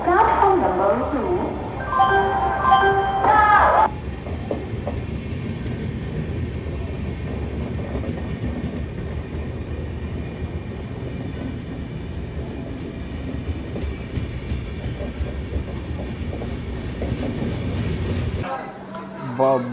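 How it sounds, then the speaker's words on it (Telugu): The Pune Junction–Kanyakumari Express pulls into platform 2 of an Indian railway station with a steady, loud rumble of wheels and carriages. Voices and a station announcement are heard over it, then the noise drops off sharply near the end. "Train number 1631 Pune Junction Kanyakumari Express is coming on platform number 2."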